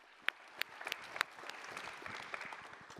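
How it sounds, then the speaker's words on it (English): A few distinct claps ring out, then a soft, spread-out round of applause from a small group at an online food-choices event continues faintly, heard close and thin. "let's give them a nice round of applause"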